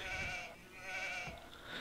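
Sheep bleating in the Age of Empires: The Conquerors HD strategy game, two or three drawn-out wavering bleats in a row, clear and fairly loud, with no talk over them.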